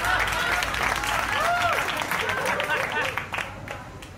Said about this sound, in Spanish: El aplauso para Pedro Martínez